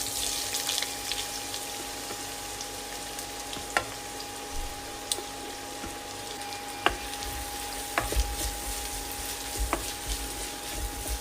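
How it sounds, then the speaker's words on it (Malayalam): Sliced onions frying in hot sunflower oil, a steady soft sizzle and hiss with a few faint clicks and taps of a utensil, fairly quiet and continuous, no voices. "ചൂടായ എണ്ണയിലേക്ക് സവാള ചേർക്കാം"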